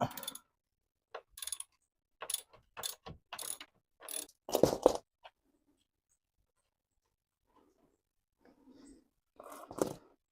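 Hand ratchet working on an A-arm bolt of a Club Car DS golf cart, heard as short bursts of quick clicking at close range, separated by quiet gaps, with a last burst near the end.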